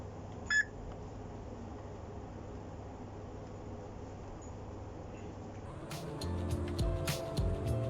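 A Redmi Watch 3 Active smartwatch plays a single short electronic voicemail beep over a faint steady hiss, followed by quiet background and then a louder rumbling clatter near the end.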